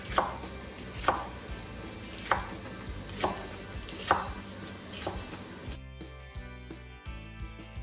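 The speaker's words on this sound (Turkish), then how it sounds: "tekrardan şöyle yarım ay şeklinde de bunları doğrayalım." A knife chops peppers into half-moons rhythmically on a cutting board, five or six sharp strikes about a second apart, then quieter clinks and shuffling follow.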